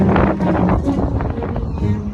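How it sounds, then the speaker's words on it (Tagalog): Strong wind buffets the microphone with a loud, rumbling roar that gusts continuously and drowns out other detail. "Hangin, grabe. Ate, ang hangin."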